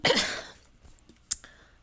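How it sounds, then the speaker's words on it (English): A single harsh cough bursts out close to the microphone, tailing off into a quiet breathy exhale, followed by a brief small click. "sorry if I cough a bunch during the stream"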